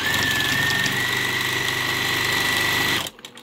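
Sewing machine stitching across a hooded towel, running in one steady, loud mechanical hum for about three seconds before abruptly stopping.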